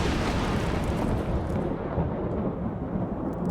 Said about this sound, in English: the lightning is so loud